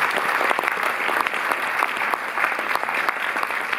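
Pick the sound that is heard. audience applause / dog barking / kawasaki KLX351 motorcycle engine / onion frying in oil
audience applause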